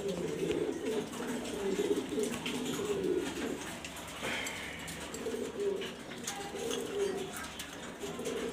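Pigeons in a Mirpur, Dhaka loft, including Afsan grizzle birds, coo repeatedly in soft, rolling phrases that overlap, close by and moderately quiet, with faint background noise.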